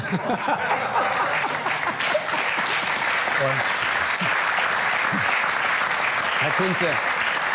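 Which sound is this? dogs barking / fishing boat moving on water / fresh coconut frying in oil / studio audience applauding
studio audience applauding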